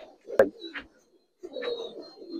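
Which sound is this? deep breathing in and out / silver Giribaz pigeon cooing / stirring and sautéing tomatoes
silver Giribaz pigeon cooing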